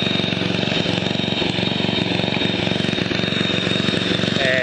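Lawn mower engine idling with the fuel shut off as it runs its carburetor dry, a close, loud, steady chugging drone with a fast regular pulse.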